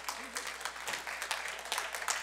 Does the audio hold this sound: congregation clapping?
yes